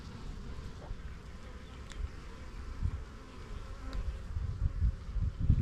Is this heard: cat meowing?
no